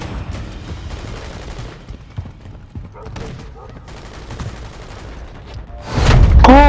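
Video game gunfire from Call of Duty 3 crackles in bursts of rapid shots, loud and close, ending in a heavy boom and rumble.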